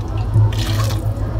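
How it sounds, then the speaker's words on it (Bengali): Hot water poured from a neighbouring stove into a pot of duck curry, a soft steady splashing pour with low rumbling beneath, close and continuous for about a second and a half. "এই তো এরকম গরম পানি দিয়ে দিবেন।"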